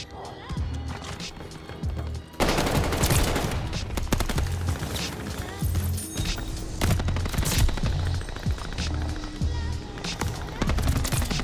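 Sharp, repeated shots crack from an NZ sniper rifle in an anime-style shooter game, loud and close, spaced in an uneven rhythm over steady game noise while someone talks throughout.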